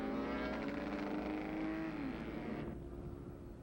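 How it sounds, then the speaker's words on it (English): A 1980s 1000cc V4 Honda factory superbike on a victory lap roars past with a sustained, rising and falling engine note, loud and fairly close, then fades as it moves away. "carrying the checkered flag on that extremely torquey V4 Honda, 1000cc"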